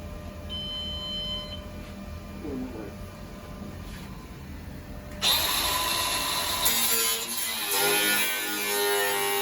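Metal is cut with a power tool during door repair on a Jaguar MK10 classic car; after a quieter stretch with faint mechanical noises, a loud harsh grinding whine starts abruptly and continues to the end.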